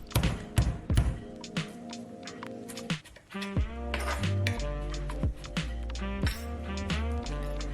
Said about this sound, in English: Then I cut 2 cloves of garlic.